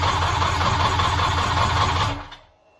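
A 1100 engine cranks and catches, running loud and close with a rough, steady drone for about two seconds before it cuts out abruptly into silence.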